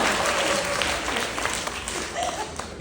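Warm audience applause at a talk concert, a dense wash of clapping that holds steady for a few seconds, with faint voices underneath.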